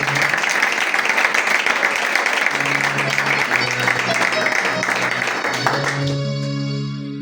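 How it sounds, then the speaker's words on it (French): Church congregation at a revival vigil applauding with cheers over music, a dense steady wash of clapping that fades out near the end as sustained tones remain. "Si on peut acclamer le Seigneur."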